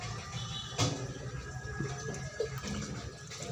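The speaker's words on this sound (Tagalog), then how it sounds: "Diretso na lang natin buhos." Water is poured straight into a container of azolla, a continuous splashing, gurgling pour heard close by with a few small knocks, and no talk over it.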